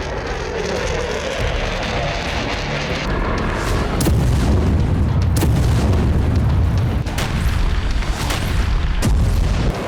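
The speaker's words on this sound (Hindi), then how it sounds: "कई धमाके हुए और कई जगह पर आग लग गई।" Missile strikes in Ukraine produce heavy rumbling booms and sharp cracking blasts over a continuous roar. The sound is loud and chaotic and grows denser after the first few seconds, with no voices.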